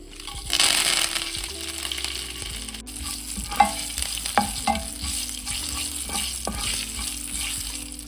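Dried red chillies and curry leaves frying in hot oil with popped mustard seeds for a Kerala bitter gourd theeyal tempering, a steady loud sizzle with crackles and occasional clinks of stirring, no voices.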